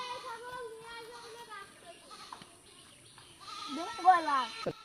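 A goat up for sale bleats in wavering cries, one near the start and a louder run toward the end, with voices talking around it.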